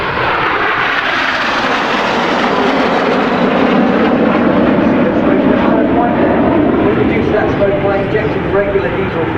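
RAF Red Arrows jets fly in formation at Farnborough International Airshow 2012, a loud, continuous jet roar sweeping past with slowly shifting pitch that fills the whole stretch.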